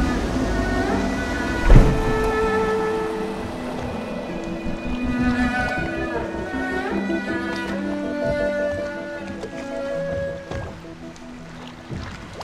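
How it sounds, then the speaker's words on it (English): Water and boat sounds from piloting a small boat in the video game Dishonored, a steady wash of sloshing water under a layer of game music, with one brief thump early on. "Oh, I should concentrate on piloting this boat."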